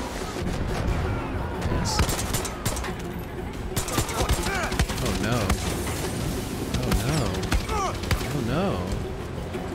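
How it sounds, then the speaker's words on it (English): Gunfire rattles through a tense firefight in the video game Far Cry 6, with dense bursts and booms layered under a man's hurried speech throughout. "Stop shooting my friends."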